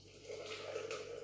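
Water poured gently onto ground Caffè Vergnano coffee in a French press, giving a soft, steady liquid splashing and trickling that runs continuously and fairly quietly throughout.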